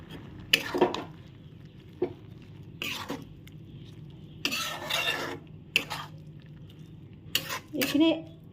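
Lentil dal stirred in a metal pot for an Assamese kol posola and mosur dal dish, bursts of spoon scraping and clinking against the pot sides separated by quiet pauses, close and fairly loud.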